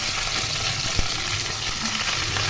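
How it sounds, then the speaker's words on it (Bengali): Bay leaf and cumin seeds sizzling in hot oil, a steady close crackle and hiss with faint stirring noise and one sharp tap partway through. "তেজপাতা দিলাম, জিরে দিলাম, দিয়ে ভালো করে ভেজে নেব।"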